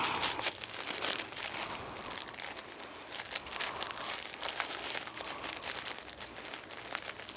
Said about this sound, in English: I'm going to work this bag up a little bit, trying to incorporate the water and the purple paint.